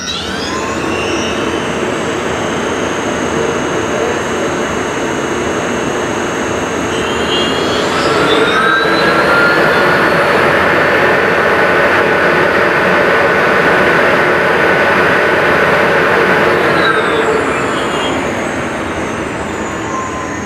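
A motorcycle-type engine from a Colombian-made Maiker, held at high revs with a steady, loud whine that rises in pitch midway, stays up for about ten seconds, then eases back down, heard alone without talk.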